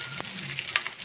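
Slit green chillies dropped into hot oil for restaurant-style chicken 65 give off a close, steady frying hiss with small crackles and a brief stirring scrape, with no voices.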